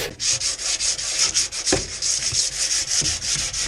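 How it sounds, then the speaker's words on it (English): Rhythmic hand sanding of narrowboat locker paintwork with 320 grit abrasive, close and fairly loud, with steady back-and-forth rasping strokes about four per second and no talking. "To abrade the surface so the paint will key to it."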